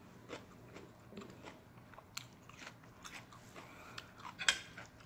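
Faint, close crunching bites and chewing while someone eats spicy crab papaya salad, scattered irregular crunches with a sharper one near the end.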